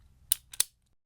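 Blade cutting across a grimy golf ball recovered from a lake, two quick sharp crunching snaps close up in a quiet room.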